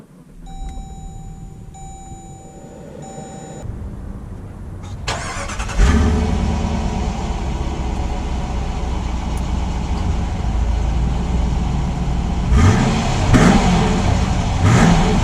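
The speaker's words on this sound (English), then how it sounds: "let's take the 2019 Summit out to see how it drives" A 2019 Jeep Grand Cherokee Summit sets off: a few chime beeps inside the cabin, then the engine starts and settles into a steady drone as the SUV drives off, with brief louder surges.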